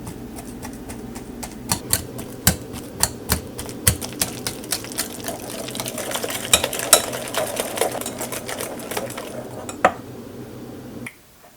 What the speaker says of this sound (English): use a whisk to mash them well until they become very slurry